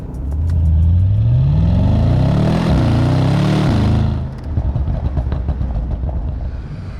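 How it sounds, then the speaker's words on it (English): A Bentley with a motorsport-derived race engine revs hard, its pitch climbing in a loud, close-up rising roar that holds for a few seconds, then drops away to a rough, burbling idle. "The noise it makes, also excellent."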